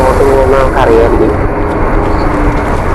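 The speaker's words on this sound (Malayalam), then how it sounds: "മേളിൽ കൂടെ അത് ഫ്ലൈറ്റ് ഒക്കെ പോകുന്നുണ്ട് ഗൈസ്" In the video game Into the Dead, an airplane drones overhead as a steady, loud engine rumble, heard beneath continuous talking from a player.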